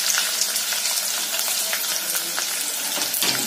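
Onions fry in a pan while cooking paneer bhurji, a steady close hiss and crackle of sizzling oil with small popping bursts throughout.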